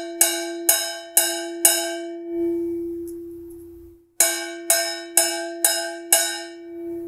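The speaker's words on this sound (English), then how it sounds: "bell for the timbale, you normally focus on the midsection of the bell" Timbale bell struck on its midsection, four bright metallic clanks, a pause, then a quicker run of five strikes, each ringing close and decaying quickly, played alone.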